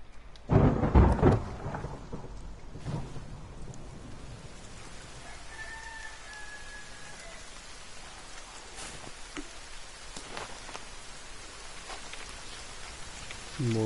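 Rain falls steadily in the survival game The Forest, with a low rumble of thunder rolling in early on and then fading under the continuous hiss of rainfall and occasional faint tones.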